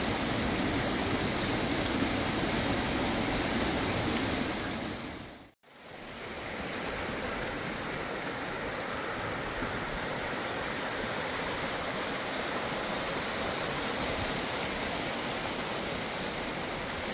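A mountain stream on a Shikoku pilgrimage trail rushes steadily nearby, a constant broad watery roar that cuts out for an instant before resuming unchanged.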